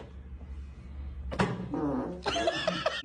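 A cat lets out a sudden loud yowl, then more strained, wavering meows and caterwauling in short bursts over a low background hum, fairly close.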